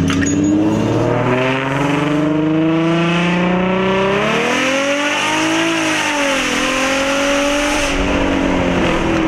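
An Infiniti G35 coupe accelerates hard in first gear, the engine note climbing steadily in pitch as it revs out loud and close, dipping briefly around a shift-like break before rising again, with no talking.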